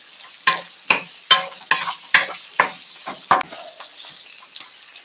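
A spoon scrapes and stirs haluski in a hot pan in a series of sharp, evenly spaced strokes, close and crisp, with a light sizzle underneath.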